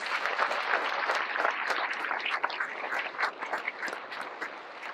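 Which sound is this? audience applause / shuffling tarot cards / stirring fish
audience applause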